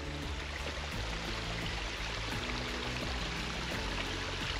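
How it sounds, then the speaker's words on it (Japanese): A mountain stream on a forested trail at Mount Narukami in Gunma flows and splashes steadily, a continuous rushing, gurgling wash of water heard close by with no speech. "こうやって沢の音が聞こえて沢が出てきます"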